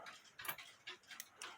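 A one-day cuckoo clock movement, a Poppo cuckoo under repair, ticks steadily at close range with about four crisp, evenly spaced beats and no talking.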